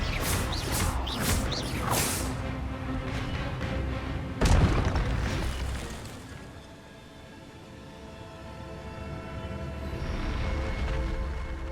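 Spell effects from the wizarding video game Hogwarts Legacy, with a loud booming blast and whooshing magical bursts, followed by rumbling ambient game sound with no talking.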